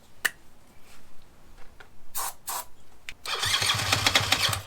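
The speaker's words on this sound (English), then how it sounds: "See if it fires up." A few sharp clicks and cranking attempts, then a motorcycle that had not run in years catches after a spark plug cleaning and roars into a steady, loud idle close by.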